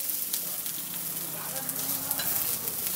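Chopped vegetables stir and fry in a hot pan for a vegetable egg omelette, a steady close sizzle with soft scraping from the spoon throughout.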